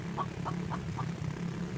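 A chicken in a video game gets run over by a vehicle, sounding as four short squawks at a steady pace over a constant low engine rumble.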